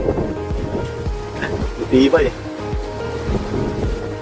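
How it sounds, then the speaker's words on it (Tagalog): Gusty typhoon wind in Taiwan buffeting the microphone with a rushing roar that rises and falls, while a person talks briefly over it. "Malakas ng hangin, oh."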